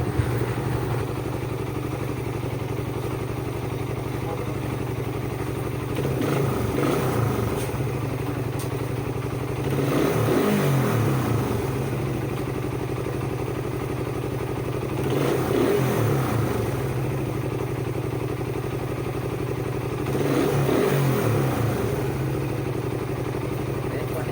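A carbureted motorcycle engine idles loudly and steadily during carb tuning, with four periodic rev-ups spaced several seconds apart, close by with no talking.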